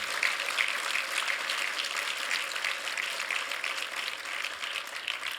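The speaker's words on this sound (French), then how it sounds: "vous pouvez encore l'applaudir." Steady audience applause at a French municipal campaign meeting, a dense even wash of clapping that holds at a moderate level for several seconds without pause, with no voices heard over it.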